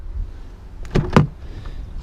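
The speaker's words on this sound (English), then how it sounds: "Power sliding doors." A power sliding door on a 2017 Chrysler Pacifica Limited minivan gives two sharp mechanical clunks close together, then a softer motor whir fading out, heard close up without talk.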